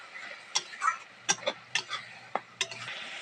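A spice masala cooks in a pan with a little water, a spoon scraping and knocking against the pan in several sharp strokes over a faint low simmer.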